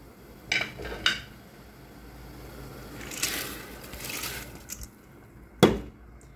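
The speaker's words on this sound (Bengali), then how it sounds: "পানি ঝরানো চাউলটা দিয়ে দিব।" Drained rice tipped into a pot of boiling saffron-coloured water for shahi zarda: a few metallic knocks, then a soft rushing pour and bubbling, ending with one loud clank of utensil on pot.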